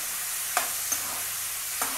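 Onions frying in oil for a Telugu onion chutney give a steady, close hiss, with a few brief clinks or stirring knocks scattered through it and no talking.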